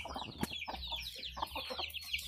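Chickens raised alongside chicks cluck in a busy, overlapping chatter with bird calls, steady and fairly close throughout the short stretch.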